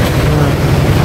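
A tractor engine drones loudly and steadily from close by while riding along toward a river, a constant low rumble with wind-like rush filling the whole moment.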